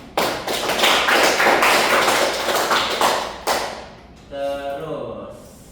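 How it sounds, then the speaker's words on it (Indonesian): Classroom students applauding during an English micro-teaching lesson, a dense burst of clapping for about four seconds that fades, then a teacher talks. "beri aplaus tadi yang jawab"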